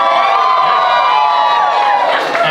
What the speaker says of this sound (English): can we give the beautiful couple a massive round of applause to show our love and support?